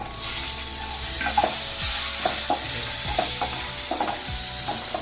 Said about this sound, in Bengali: আমি এটা লাল লাল করে ভেজে নেব।